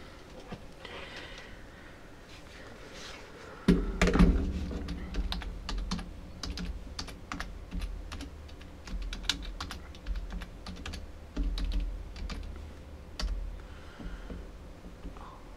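Someone types on a computer keyboard at a workbench: rapid, irregular clacking keystrokes up close begin after a quieter few seconds and continue in bursts to the end, with no talking.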